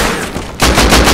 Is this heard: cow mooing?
no